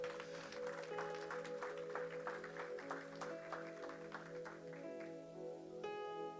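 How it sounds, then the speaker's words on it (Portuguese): A church congregation applauds during a sermon, soft scattered clapping over sustained keyboard or organ tones, faint and distant. "Aplauda ao Senhor."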